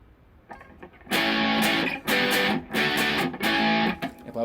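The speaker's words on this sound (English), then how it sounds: "This is on actually a fairly low gain for this AMD distortion station that I've got down here." An electric guitar runs through an AMD distortion pedal set to fairly low gain, playing loud, crunchy chords in short repeated bursts with brief gaps between them.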